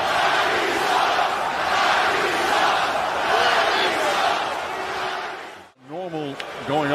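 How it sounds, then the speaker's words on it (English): An NBA arena crowd chants and roars in unison, loud and sustained, aimed at Kyrie Irving during a game; after a brief drop the crowd noise returns under a commentator's voice. "As the crowd starting to serenade, Kyrie Irving."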